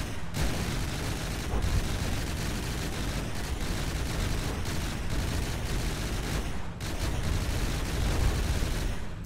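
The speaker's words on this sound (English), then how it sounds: "I think the rapid fire gun's amusing." Dual rapid-fire 60mm miniguns in the naval game From The Depths, a continuous roaring barrage of dense gunfire with a brief break partway through, loud and steady, no talk.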